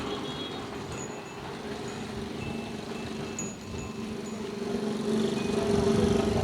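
Road traffic rolling past, with a steady low rumble of engines and tyres and a hum that grows louder toward the end as a heavier vehicle approaches.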